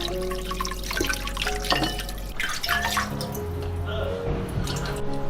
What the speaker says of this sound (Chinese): 用纯净水或者凉白开洗掉表面的油脂